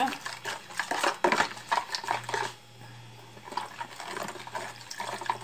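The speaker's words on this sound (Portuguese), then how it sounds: "E leite, agora vamos colocar o leite." Milk poured from a container over biscuits in a home kitchen for a cappuccino-style dessert, a soft liquid trickle mixed with light clinks of dishes, with a quieter pause midway before pouring sounds resume.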